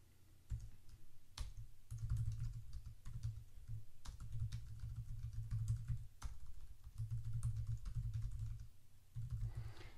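Steady typing on a computer keyboard as ad text is entered, a quick run of close, crisp key clicks with brief pauses between bursts and no talking.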